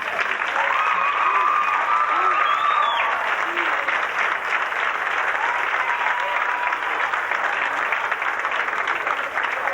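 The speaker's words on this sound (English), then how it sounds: "Let's have a nice round of applause." Guests at a 1990 high school football banquet in a VFW hall in Norwich, New York clap in a sustained, dense round of applause that stays steady and fairly loud for nearly ten seconds. Faint murmuring voices sit beneath it.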